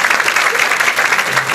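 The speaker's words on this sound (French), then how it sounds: "sous vos applaudissements" Applause rings out for a second-best video prize winner at a commemorative ceremony in Senegal, a steady, dense burst of clapping from a sizeable audience, loud and continuous throughout.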